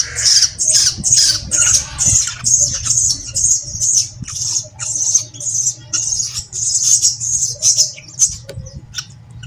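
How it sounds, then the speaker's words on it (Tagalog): A myna bird squawks over and over in harsh, rhythmic bursts, loud and close, with a steady low hum underneath. "Ito pala yung ibong Martinez guys."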